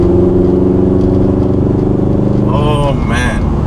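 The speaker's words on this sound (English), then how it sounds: "You guys know this car, that sound, that Boxer engine." Boxer engine of a Subaru STI, around 10 to 15 years old, idling with a loud, steady burbling rumble close by, then blipped into two short revs near the end.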